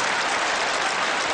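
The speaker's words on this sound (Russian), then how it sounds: "Вы говорите, люди хлопают." Audience applause at a Ukrainian-language comedy show, a dense, steady burst of clapping throughout the short stretch, with no talk over it.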